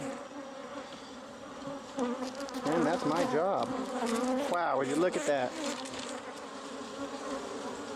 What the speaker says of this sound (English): I am literally covered in bees because I'm holding the bucket.